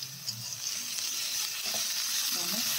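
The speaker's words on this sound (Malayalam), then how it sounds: "അതെ സവാള ഈ കറിവേപ്പിലയും കൂടി ആഡ് ചെയ്യുന്നു. നന്നായിട്ട് വഴറ്റിയെടുക്കുക." Sliced onions and curry leaves sauté in a pan for a Kerala-style chicken curry, giving a steady close sizzle with soft stirring scrapes throughout.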